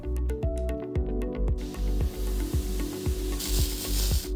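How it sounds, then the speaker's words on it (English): A Hydromist 35 carpet cleaner's pump runs in rapid, steady mechanical pulses, close and fairly loud, with a hissing spray of cleaning solution joining partway through. "With the pump switch on, pull the spray lever to see if you can hear the pump turn on when using the tool."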